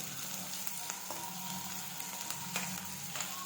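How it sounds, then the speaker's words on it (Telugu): Onions fry in oil in a pan for egg bhurji, a steady low sizzle with a few faint stirring clicks, no voices. "First oil వేసుకొని అందులో ఉల్లిపాయలు వేసుకొని కలుపుకోవాలి."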